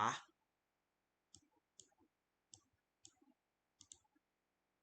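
Mouse clicks while right-clicking in LabVIEW software on a computer: a series of sharp, quiet clicks in pairs and singles spread across a near-silent room, after a brief louder thump at the start.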